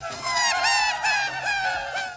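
Paul McCartney's sped-up voice giving high, wavering squawks that imitate a seagull's cry on the Beatles' "Tomorrow Never Knows", repeated several times in quick succession, loud and isolated.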